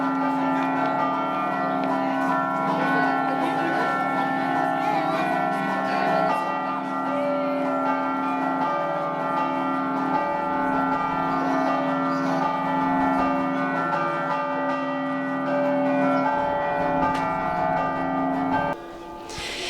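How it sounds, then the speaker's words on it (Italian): Church bells of the Goriziano ring continuously in a dense, festive peal with overlapping tones, loud and sustained, without any talking, at a Friulian festival in Capriva del Friuli. "dalle campane suonate a festa dagli Scampanotadors del Goriziano"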